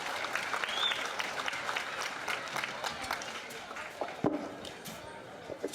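Scattered audience clapping at a junior Berkshire gilt livestock show, moderate and uneven applause from a small crowd in an arena, with background murmur and a few knocks.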